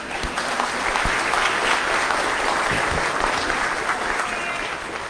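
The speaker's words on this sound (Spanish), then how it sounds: "Un aplauso" A congregation applauds during a Lenten Sunday church service, a loud, sustained wash of clapping from many hands that continues evenly throughout.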